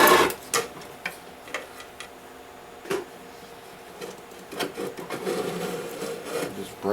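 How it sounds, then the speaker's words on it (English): A small chisel drags and scrapes through wax in a bucket, giving scattered rasping, woody scratches that build into a denser, continuous scraping toward the end, close and fairly quiet. "I'm gonna take the chisel and I'm just gonna kind of drag it"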